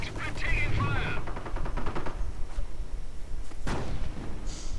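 Bren gun machine gun fire in a wartime strategy video game, delivered as a quick rattling burst and a few sharper shots over a busy battle din, under a low commentary voice.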